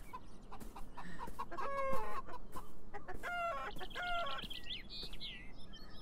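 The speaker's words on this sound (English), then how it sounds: "They're not crows, it's fine. They're chickens." Several chickens in the video game Beyond Eyes cluck and squawk in short bursts, with higher chirps and calls near the end, fairly close.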